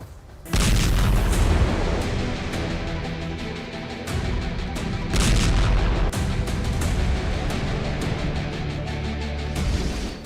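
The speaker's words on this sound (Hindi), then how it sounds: "एयर स्ट्राइक से फिर थर्राया लेबनान।" Explosions from air strikes on Hezbollah positions in southern Lebanon: loud, sustained booming and rumbling blasts that continue almost without pause, with sharper bursts rising out of the roar.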